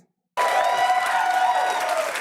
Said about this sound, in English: I gotta hear that applause one more time.